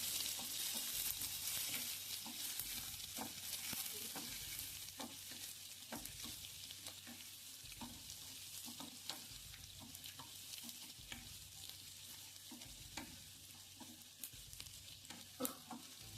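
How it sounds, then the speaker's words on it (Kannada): Onions, green chillies and red chilli frying in a pan for chicken gravy, a quiet, steady sizzle broken by regular scraping stirs and occasional pops. "ಇದು ಸ್ವಲ್ಪ ಹೊತ್ತು ಬಾರಿಸ್ಬೇಕು. ಅದು ಕೆಂಪಗಾಗುತ್ತೆ ಈರುಳ್ಳಿ."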